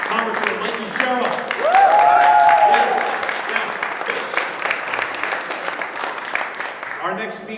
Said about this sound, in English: Another round of applause for our Congresswoman Mikey Sherrill.